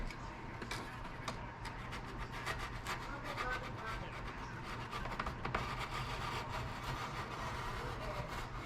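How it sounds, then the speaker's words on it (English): A blade rasps and scrapes as it trims an overlapping lower edge of foam board during a model build, a steady close rubbing sound through the whole stretch. "All I'm doing is kind of trimming this lower bit that kind of overlaps."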